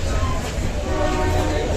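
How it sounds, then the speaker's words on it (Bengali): Himgiri Express train pulling out of Howrah station, a steady loud rumble of wheels and carriage noise filling the clip, with voices faintly mixed in. "12 মিনিট লেটে ট্রেন ছেড়েছে আমাদের হাওড়া স্টেশন থেকে"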